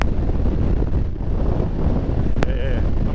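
Wind buffets the microphone in a steady, heavy rumble throughout a motorcycle ride, with a brief sharp knock near the end and a faint tonal whine after it.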